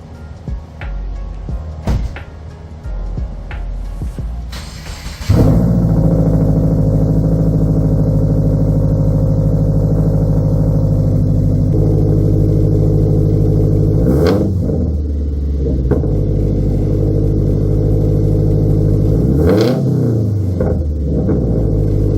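A 2022 Subaru WRX engine fitted with a JDMuscle UEL header and the skid plate removed starts with a loud burst after a few quiet knocks, then holds a deep steady rumble broken by two sharp revs that rise and fall.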